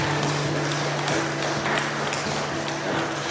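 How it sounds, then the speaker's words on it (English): A church congregation gives a clap offering to God during a worship service, with steady, dense applause from many hands filling the room throughout. "Let me give God a clap offering."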